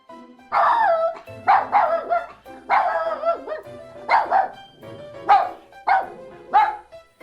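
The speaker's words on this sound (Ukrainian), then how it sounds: "Чую гавкіт я собак" Dogs bark repeatedly in an uneven rhythm, several close, loud barks following one another with brief gaps.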